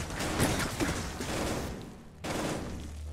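Rapid bursts of gunfire in a VR shooter game, with dense overlapping shots, a brief pause, then more firing resuming.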